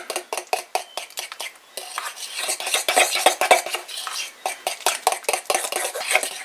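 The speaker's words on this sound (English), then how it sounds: "And mix it in again super thoroughly." Wet ingredients for dog cookie dough being mixed by hand in a bowl, a run of quick close clinks and scrapes of utensil against the dish, then softer, denser squelching stirring, with no talking.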